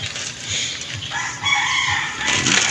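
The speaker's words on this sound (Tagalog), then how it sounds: "Tapos yung mga ibon." A rooster crows in a rural province setting, with other birds calling around it; the crowing is moderately loud and repeats against a steady outdoor background, with no talking.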